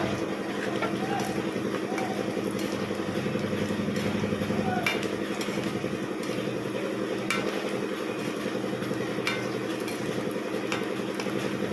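Four or five dried red chillies sizzle in hot oil for a fried potato dish, a steady soft crackle and hiss under a person speaking throughout.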